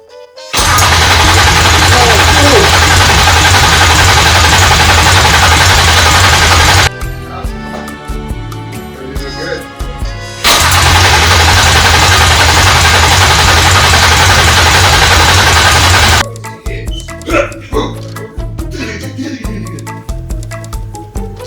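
A BMW E36 engine cranks and tries to fire in two long, very loud starter bursts, each followed by rough clattering and knocking as the car stumbles, with voices talking in between.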